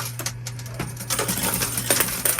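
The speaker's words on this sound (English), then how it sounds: "all that racket you're hearing is John swapping the bin" Continuous metallic clattering and jingling of many coins as a high-limit coin pusher bin is swapped, loud and busy throughout, no talking.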